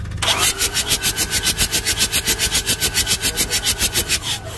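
Mitsubishi L300 diesel engine being cranked by its starter motor during reassembly, a loud, steady rhythmic chugging of compression pulses that runs unbroken for several seconds without firing.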